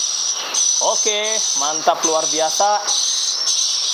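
Recorded swiftlet calls come through an amplifier and loudspeaker in a four-storey swiftlet house, chirping in short warbling phrases over a constant high electronic hiss.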